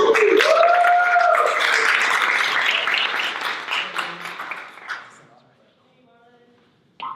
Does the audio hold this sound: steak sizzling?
no